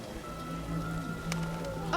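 Rain in the video game The Witcher patters steadily in the background, mixed with other game ambience and a voice in the scene.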